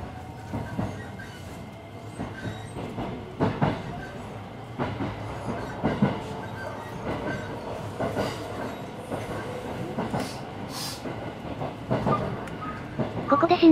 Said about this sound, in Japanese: ここで普通電車も動き始めました。